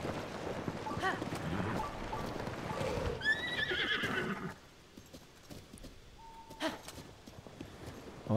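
Horse pulling a cart in Zelda: Tears of the Kingdom, with clip-clop hooves and a sharp whinny near the start over game ambience, then the scene quiets to sparse clanks and a brief tone.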